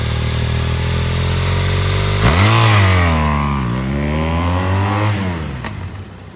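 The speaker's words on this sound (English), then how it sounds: "I'm holding the bike back, raise the RPM." Motorcycle engine held at a standstill and revved up before a launch, loud and close: steady idle, then a sharp rise in RPM with rising and falling pitch sweeps as the throttle is worked, easing back near the end.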